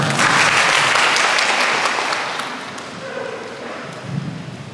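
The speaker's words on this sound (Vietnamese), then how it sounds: "Cho một tràng vỗ tay" An audience at a Catholic sermon in Sóc Trăng bursts into applause, loud and dense at first, then thinning and fading slightly toward the end with a few scattered claps.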